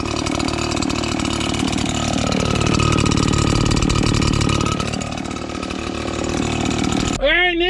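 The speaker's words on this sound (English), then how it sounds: "Two pulls, not bad. I like that blower." A pull-start leaf blower engine runs loud and steady close by, its pitch wavering slightly, then cuts off abruptly near the end as a brief tonal squeal follows.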